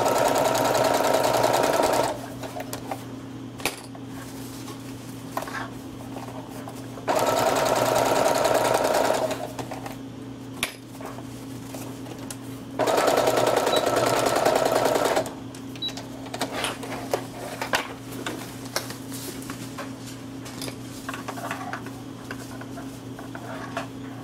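A sewing machine stitches a cloth diaper in three loud bursts of rapid whirring, separated by quieter pauses with a steady background hum and small clicks.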